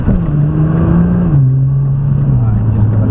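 A Nissan on a race track during a junior driving experience keeps up a loud, steady engine drone whose pitch dips slightly partway through, while an instructor talks over it.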